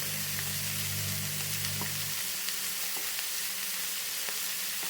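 Banana flower and drumstick leaves sauté with turmeric in a pan, giving a steady close sizzle with occasional small pops and a low hum at the start, with no talking.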